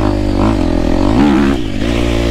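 Close, loud revving from a Gas Gas 250F motocross motorcycle, its buzzy engine note climbing sharply, easing off, then surging again, with faint clattering mixed in.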